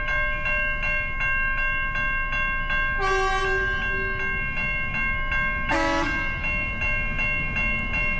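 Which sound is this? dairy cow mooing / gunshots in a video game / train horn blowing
train horn blowing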